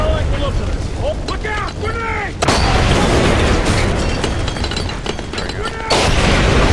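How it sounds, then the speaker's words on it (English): Booming frag grenade explosions in Splinter Cell Conviction, two loud blasts hitting a few seconds apart amid rumbling combat, with a voice talking excitedly before the first. "Frag grenade for you too!"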